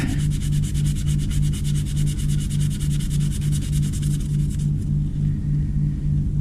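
Sandpaper rubs steadily by hand over a surface, a close, loud, continuous rhythmic scratching with quick repeated strokes and a low droning hum underneath, thinning out just before the end.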